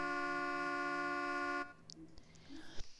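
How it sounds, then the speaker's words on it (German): A Mercedes-Benz CLS 55 AMG sounds its car horn in one steady, loud blast lasting about a second and a half, followed by quiet rustling. "Und die Hupe geht so."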